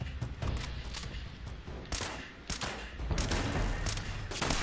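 A turret in Fallout 76 fires in clusters of sharp, close shots, some spaced apart and some in quick bursts, over a busy background of rumbling game noise.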